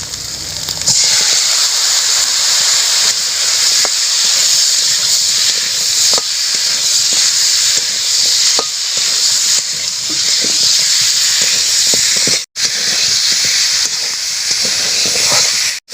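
Chicken legs frying in hot oil in a village kitchen, a loud continuous hiss and sizzle from start to finish, with a brief cut near the end.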